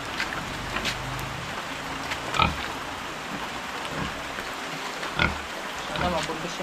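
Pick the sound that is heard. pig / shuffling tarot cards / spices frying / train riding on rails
pig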